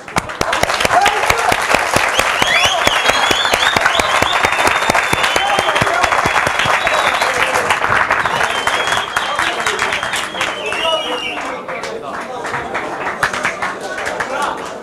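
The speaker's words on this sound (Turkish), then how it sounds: "izninizle sizi ben alkışlayacağım" A crowd claps at a family talk gathering, with dense steady applause holding loud and continuous for around fifteen seconds before thinning slightly near the end.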